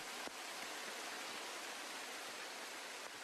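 The Shiraito no Taki waterfall in Japan cascades from a cliff, a constant broadband roar of rushing water, steady and unbroken throughout.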